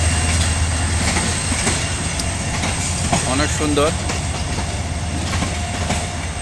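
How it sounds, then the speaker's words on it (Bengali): A train rolling into the Hili border zero point, its broad steady rumble and wheel noise filling the clip while a person speaks briefly over it. "আমরা দাঁড়ার কিছুক্ষণ পর ট্রেন আসলো, ভালো লাগতেছে।"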